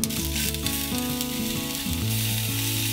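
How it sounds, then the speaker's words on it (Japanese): Food searing in a frying pan gives a steady, close sizzle, accompanied by a sustained tonal hum that shifts pitch in steps. "軽く水で洗い、フライパンにのせて表面を焼いていきます。"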